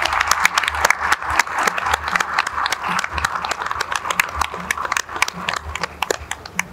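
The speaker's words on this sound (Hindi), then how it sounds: "आप सबसे गुजारिश है इनकी हौसला अफजाई के लिए तालियां बजाई जाएं।" An outdoor audience at a Pakistan Independence Day flag hoisting ceremony at a high court claps for children. The applause is loose and uneven, with scattered individual claps rising and falling, and no voices are heard over it.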